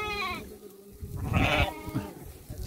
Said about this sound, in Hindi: और ये और एक बछड़ा है, छोटा सा बकरी का. कितना क्यूट है देखो.